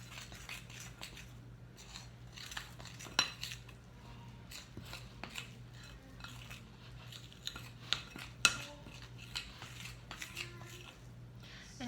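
A utensil scrapes and clinks against a bowl while pie crust flour mixture for a pumpkin pie is stirred, with quiet irregular taps and scratches and soft crumbly rustling, close by and faint.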